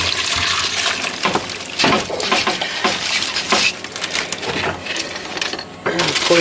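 Liquid poured steadily into a cooking pot to make gravy for a turkey, a continuous splashing, gurgling stream with a few brief clinks along the way.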